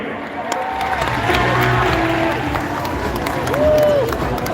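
At a live SuperDogs dog show, an audience claps and cheers steadily. A broad wash of applause rises briefly toward the end, and a voice is heard over the crowd.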